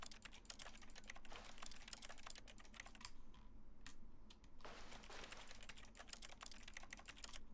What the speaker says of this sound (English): Press C on your keyboard.